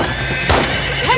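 A horse in the video game The Last of Us Part II gives a sharp, loud whinny close by, set against steady game ambience, with a hoof thunk partway through.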